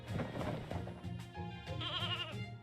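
Sheep bleats sound in Fate/Grand Order, several wavering, nasal cries close and clear, one rising vibrato bleat near the end, without talk.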